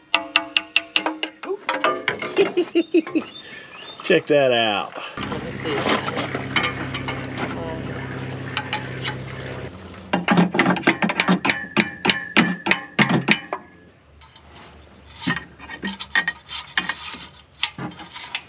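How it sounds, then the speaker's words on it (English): Sharp metallic clanks and taps as a hammer strikes a bolt held in vice grips to knock a broken dipstick out of a cramped engine bay on a Jaguar MK10 with a 440 Mopar V8. The strikes come in irregular bursts, and someone talks between them. "We're gonna try to vice grip and hammer this up out of the way."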